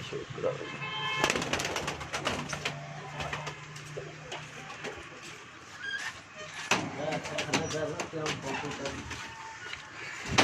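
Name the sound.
pigeons cooing on a rooftop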